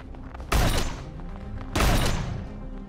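Two heavy turret blasts from Empyrion Galactic Survival, each a loud, booming burst with a rolling tail, spaced about a second apart against a steady low game hum.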